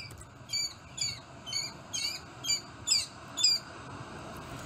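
A recorded bird call plays back for species classification: a series of about seven short, sharp, high-pitched squawking notes repeated at a steady rhythm over a low background hum.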